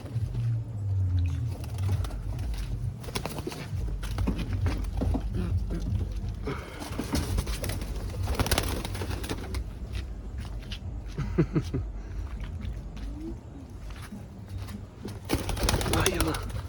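Pigeons coo softly in an outdoor spot during a Sunday fishing outing, their low rounded calls surfacing intermittently beneath people talking, shuffling footsteps and steady background noise.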